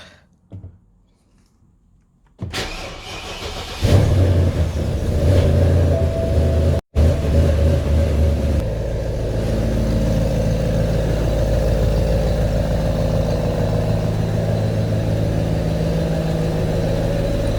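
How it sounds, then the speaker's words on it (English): A BMW E63 650i engine cranks and catches, revs briefly, then settles into a steady, loud idle hum that continues to the end. "Alright, the car is turned on."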